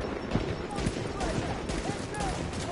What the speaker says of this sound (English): I'm blind firing with a sniper rifle and still getting hits.